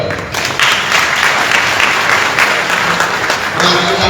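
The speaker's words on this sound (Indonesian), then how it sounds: "tepuk tangan untuk beliau." A studio audience at an Indonesian political talk show applauds a guest, loud, full clapping that holds steady for several seconds with a brief swell near the end and a faint voice underneath.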